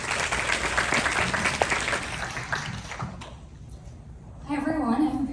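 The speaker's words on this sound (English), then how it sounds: "A round of applause for Siri Nalula," Audience applause for a presenter at a quantum research program, a broad wash of clapping that fills the first three seconds, then fades before a voice begins speaking.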